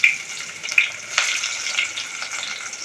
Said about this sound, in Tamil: இப்போ வந்து ஒரு வெங்காயம் அரிஞ்சு வச்சுருக்கேன். இதில் எண்ணெயில் போட்டு வதக்கணும்.